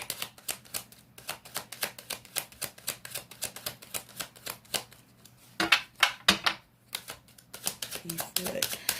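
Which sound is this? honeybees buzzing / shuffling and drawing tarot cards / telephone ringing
shuffling and drawing tarot cards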